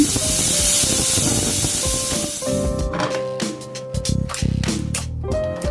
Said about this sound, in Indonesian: Untuk membuka presto kita buang uapnya dulu sampai habis